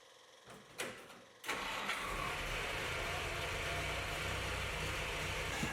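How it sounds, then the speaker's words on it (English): A car engine fitted with a newly installed Solex carburetor cranks briefly, then catches and settles into a steady, even idle, close by with no speech. "Just from the startup it already sounds and runs better"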